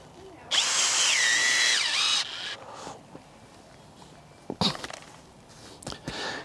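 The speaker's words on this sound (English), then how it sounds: "let's try the bulb auger." A bulb auger bores planting holes in soft garden bed soil, giving a loud steady drilling whine for about two seconds, then short rustles and scrapes as the bit is handled.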